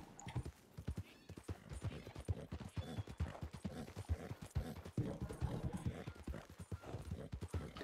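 Horse hooves clip-clop in steady, quick rhythm throughout, fairly faint, in the Red Dead Redemption 2 video game, with occasional whinny-like sounds.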